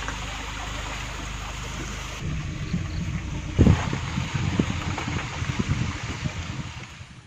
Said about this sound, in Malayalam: ഈ കാറ്റ് അതുപോലെ തന്നെ ഇടിയൊക്കെ ഇപ്പോഴത്തെ ഭയങ്കര സ്ട്രോങ് ആണ്